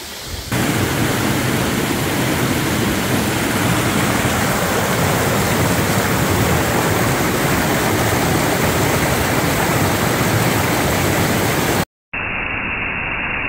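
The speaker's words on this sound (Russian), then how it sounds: "А это водопад. Очень высокий." A loud, steady roar of falling water from a very tall waterfall in Georgia fills the whole stretch, a dense continuous rush that cuts off abruptly near the end.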